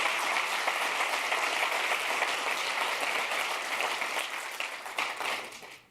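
Audience applause fills a keynote hall at the Visual Studio 2015 release event, a dense sustained clapping from a large crowd that holds steady for several seconds before tapering off.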